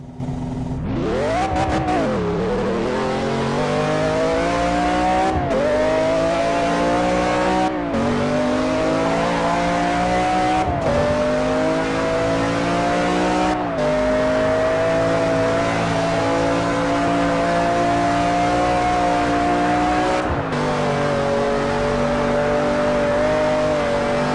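In a racing video game a McLaren F1 accelerates toward top speed. The engine screams loud and constant, rising in pitch through several gears, with brief breaks at each shift.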